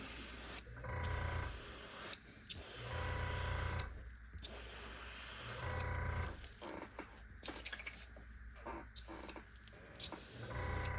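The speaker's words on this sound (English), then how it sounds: "So when I'm airbrushing, all of a sudden I feel like nothing's coming out" An airbrush sprays paint onto a fishing lure in repeated bursts of hissing air, each spray lasting one to two seconds and separated by brief pauses, close and clear with no talking.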